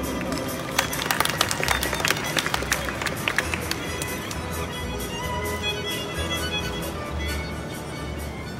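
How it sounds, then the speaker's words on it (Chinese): Applause from an audience at a railway press conference in Taipei Main Station welcomes the Taiwan Railway director to the stage, with a steady wash of clapping that is strongest early and then settles into a softer sustained patter. "我们掌声欢迎张局长上台。"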